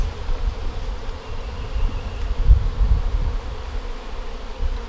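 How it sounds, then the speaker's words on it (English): Honeybees in a newly established hive, a continuous close hum of many wings with a low, slightly fluctuating drone and no voices. "So just at first glance, I can already tell that we have more bees."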